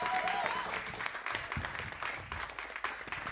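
An audience applauds a band at a jazz concert, steady, fairly quiet clapping that carries through the moment with a faint voice underneath.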